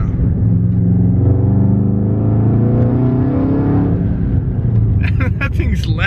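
Turbocharged car engine fitted with a CompTurbo 6262 on a rotated kit, revving hard with a droning, laggy build and loud intake rush, close and continuous, ending with sharp hissing bursts.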